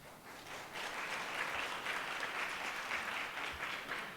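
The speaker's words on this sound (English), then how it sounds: "Y'all clap it up for him" An audience at a city summer youth luncheon claps for a presenter, a steady, moderately loud round of applause from a room full of people, continuing without pause.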